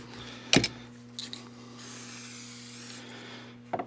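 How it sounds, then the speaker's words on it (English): A quick hiss of pure aerosol Ballistol sprayed onto a Colt cap and ball revolver, with a sharp knock at the start and light handling clicks over a low steady hum. "I'm going to give it a fast spray of pure aerosol ballistol."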